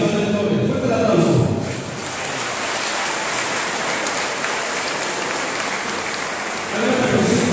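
Applause at a municipal mayor's swearing-in ceremony in Tepeojuma, Mexico, a broad steady wash of clapping from a large crowd lasting several seconds, swelling at the start and end.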